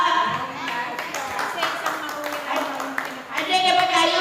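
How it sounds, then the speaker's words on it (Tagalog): A charismatic prayer congregation applauds, its steady clapping mixed with voices and singing that carry on throughout. "Maraming palakpak."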